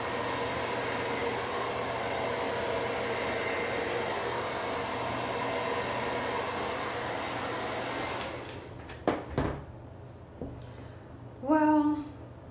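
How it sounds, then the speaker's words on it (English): A blow dryer whooshes steadily at close range over acrylic pour paint for several seconds, then switches off, followed by a few clicks and a brief rising whine. "Blow dryer, here we go."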